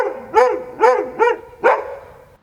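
Several loud barks from street dogs in a residential courtyard, four sharp evenly spaced barks close by, with no talk over them.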